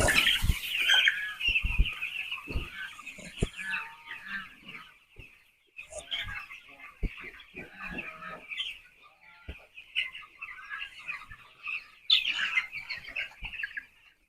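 Broiler chicks cluck and cheep nearby in scattered bursts, with knocks and handling noises in between.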